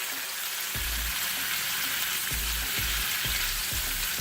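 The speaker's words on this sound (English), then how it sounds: "I'm using the panini presser so that I could actually do that and let it press" Bacon-wrapped asparagus sizzles steadily in a panini press, a loud continuous fry with a few soft low thumps at regular intervals and no talking.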